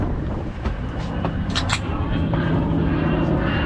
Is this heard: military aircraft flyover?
yes